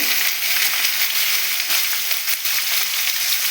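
Sliced onions fry in hot oil with dry red chillies, cumin, cardamom and cinnamon, giving a dense, steady, close sizzle with faint crackles throughout and no talk.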